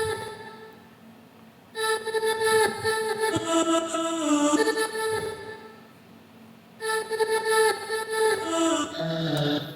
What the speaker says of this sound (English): the vocal chop sounds like this